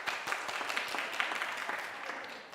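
Steady crowd applause from a congregation at an Easter Sunday sermon fills the room, a continuous, fairly loud patter of many hands clapping at once for a couple of seconds.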